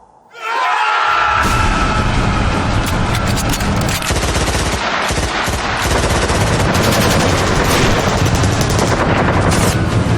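Heavy machine gun fire bursts in after a moment of quiet and rattles on continuously, loud and dense, in a war audio drama about the 1999 Kargil conflict and Operation Vijay.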